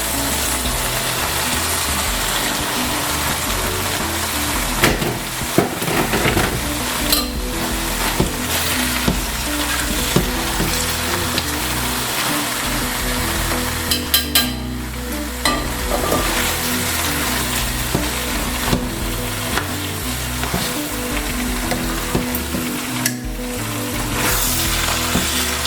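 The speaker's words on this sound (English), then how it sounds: "I'm gonna add the spaghetti in it." Spaghetti tipped into a sizzling, frying pan and stirred, with a steady loud sizzle running throughout and scraping, clattering stir strokes breaking through at intervals.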